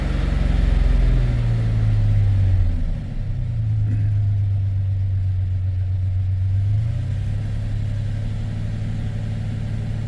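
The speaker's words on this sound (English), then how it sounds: "And there's the idle shooting up. It should calm itself down." A Chevrolet Silverado engine idles high and steady, a loud close rumble whose pitch rises and settles, with no talk.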